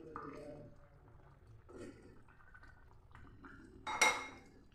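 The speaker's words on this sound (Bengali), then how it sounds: "একটু ভালো করে নেড়ে নিচ্ছি।" Stirring a mustard fish curry with rohu, drumsticks and potato in a pan, soft utensil scrapes and a sharp clink near the end, quiet and close with faint talk in the background.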